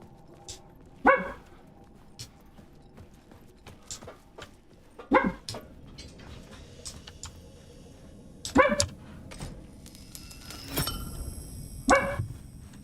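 A dog barks in short bursts, roughly five spaced barks and yips over a quiet indoor background with faint clicking in between.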